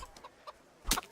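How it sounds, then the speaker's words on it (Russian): A rooster in Kingdom Come: Deliverance gives a few short, faint clucks, then one brief louder squawk near the end, heard alone in a quiet game scene. "О, петух."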